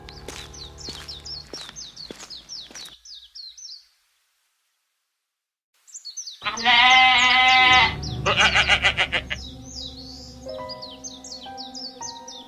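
Sheep bleating repeatedly while being fed freshly picked green grass, a chorus of close, wavering bleats that stops briefly, then returns louder with overlapping calls and birds chirping behind.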